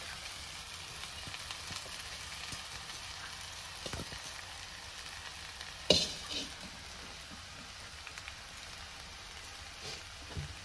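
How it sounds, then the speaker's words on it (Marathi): Soaked poha being stirred and mixed in a pan while cooking potato pohe, a soft continuous scraping and rustle with faint sizzling, quiet and steady, with one brief louder clatter midway. "आता ह्यात आपल्याला पोहे मिक्स करायचे आहेत."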